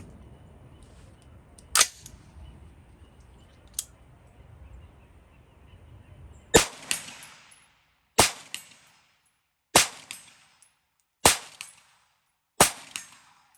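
PWS MK116 MOD 2-M rifle fitted with a HUXWRK suppressor firing 5.56 mm full metal jacket rounds, a string of sharp suppressed cracks: two fainter shots, then five louder evenly spaced reports, each trailing a short echo.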